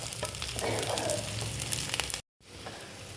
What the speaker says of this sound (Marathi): ह्यात आता दालचिनीचे 2 तुकडे घालूया, 4 काळी मिरी घालूया, 4 लवंग आणि वेलदोडे घालूया आणि एकदा भाजून घेऊया छान।